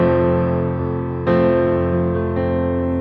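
Piano playing a 6/8 accompaniment pattern, full chord struck together then left-hand root and right-hand arpeggio notes, sustained and ringing, with a fresh loud attack partway through and no voices.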